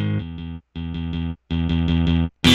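Distorted synth or instrument tones run through an IK Multimedia Tape Machine plugin in FL Studio, playing three sustained harmonic-rich chords with short gaps, ending in a bright burst, loud and alone.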